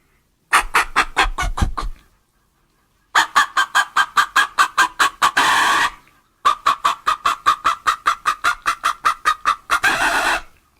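A harmonica imitates a clucking chicken with rapid runs of choppy clucks that swell into longer squawking notes, repeated in three loud, close phrases with short pauses between them.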